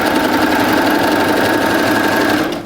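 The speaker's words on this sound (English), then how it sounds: "I'm just going to continue sewing" Baby Lock serger stitching fabric in one steady, fast, buzzing run that stops abruptly at the end, close up and with no talking.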